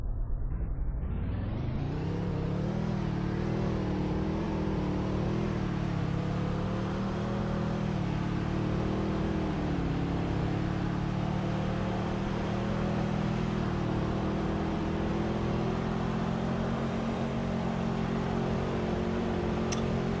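A pickup truck in the Roblox game Greenville accelerates from a standstill. After a brief quiet start, a steady engine drone rises in pitch and holds loud and continuous for the rest of the run, with no talking.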